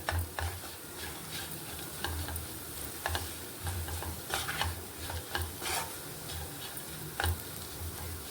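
Gongura leaves frying in oil with salt and chili, stirred in a pan: a steady faint sizzle under repeated light scraping and ticking strokes of a spatula, fairly quiet and close.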